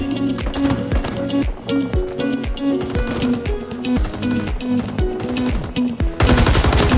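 An M60 machine gun in Rising Storm 2: Vietnam rattles out loud, rapid bursts one after another, with a dense burst of fire at the very end.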